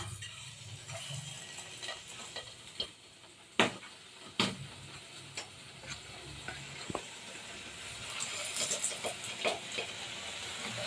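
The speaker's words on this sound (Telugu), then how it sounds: "ఎగ్ని ఇప్పుడు ఈ పిండిలో కలుపుకుని ఆయిల్లో డీప్ ఫ్రై చేద్దాం" Batter-coated eggs deep-fry in hot oil for street-style egg bonda, giving a steady low sizzle and hiss broken by sharp pops and crackles, with no talking.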